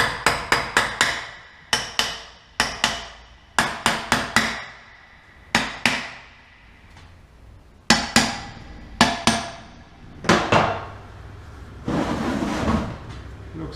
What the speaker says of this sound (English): We can use some slidey hammer.